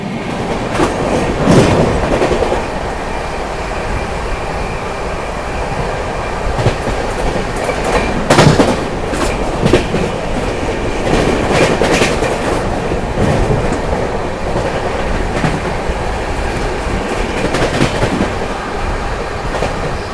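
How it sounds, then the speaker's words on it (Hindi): The Yesvantpur–Lucknow express passing at Nagpur, a loud, sustained rumble of rail cars with rhythmic clickety-clack of wheels over joints and occasional faint squeal, close and continuous throughout. "अभी जो है अपनी यशवंतपुर लखनऊ आ रही है"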